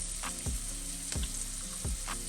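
Onions and minced garlic frying in a pan for curry shrimp and scallops, a steady close sizzle with three spaced scraping strokes of a utensil across the pan.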